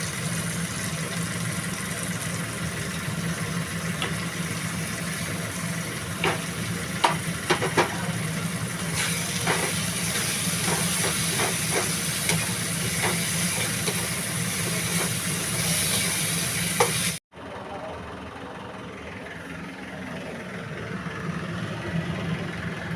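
Spice masala frying with prawns in a pan, a steady close sizzle with faint stirring clicks throughout, ending in an abrupt cut to a quieter background.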